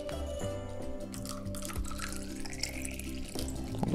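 Distilled water poured from small cups into an aquarium for hatching triops, a steady close stream of splashing and trickling that runs unbroken for several seconds with no talking.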